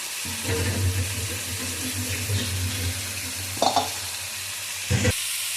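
Ginger-garlic masala paste, loosened with a splash of spice water, sizzles and hisses in a pan while a spoon stirs it slowly, with a few louder scrapes and splashes.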